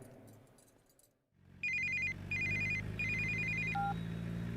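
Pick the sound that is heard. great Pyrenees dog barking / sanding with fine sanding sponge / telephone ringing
telephone ringing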